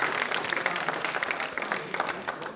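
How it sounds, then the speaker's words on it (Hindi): A studio audience at a televised general-knowledge quiz applauds steadily, dense clapping filling the room at moderate loudness throughout. "पर एक बार तालियां जोरदार हो जाए।"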